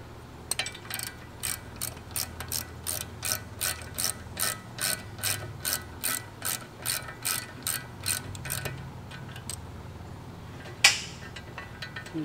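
A hand ratchet works loose the brake caliper bracket bolts on a car, giving a steady run of quick clicking bursts up close, then a pause and a sharp metallic clank near the end.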